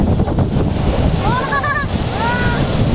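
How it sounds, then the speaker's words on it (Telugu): Rough sea waves driven by strong wind on the shore near the Vivekananda Memorial in Tamil Nadu, a continuous roaring surf with wind buffeting the microphone and faint brief tonal calls in the background. "అలలు ఈరోజు గా గాలితోటి బాగా వస్తున్నాయి"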